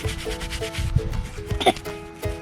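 A thumb rubs seeds out of a harvested sunflower head, giving close, repeated scratchy rubbing strokes in an uneven rhythm with a faint background tone.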